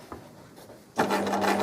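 A sewing machine starts stitching: a few faint clicks and rustles, then a sudden steady mechanical whir with a low hum that runs on, close and alone without talk.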